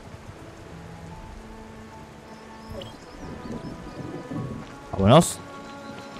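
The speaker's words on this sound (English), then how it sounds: "It's raining." Steady in-game rain from Tower of Fantasy falls across the whole stretch, with a brief louder burst near the end and a short spoken word over it.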